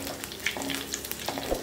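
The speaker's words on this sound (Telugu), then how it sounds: "కొంచెం 1-2 నిమిషాలు మనం ఈ పచ్చిమిరపకాయలని ఇలా వేపుకోవాలన్నమాట" Green chillies fry in hot oil for a sea fish pulusu, a close, busy sizzle with crackling pops and occasional stirring scrapes throughout.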